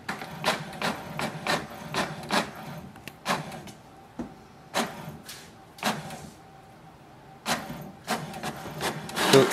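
An HP DeskJet 2752e inkjet printer working through a print job, giving a series of short mechanical clicks and whirring bursts, some spaced evenly and others bunched together, close by and fairly quiet with no talking.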